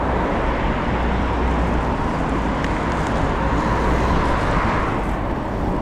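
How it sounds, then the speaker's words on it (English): Constant roar of motorway traffic heard from beneath the M4, a dense, loud rumble with no breaks and no talk. "lots of traffic noise, I'm afraid."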